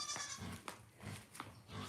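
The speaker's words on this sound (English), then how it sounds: "our first goat we ever got 13 years ago. He's an old man now." An elderly male goat bleats in a few short, wavering calls spaced across two seconds, close by on a farm with steady background noise.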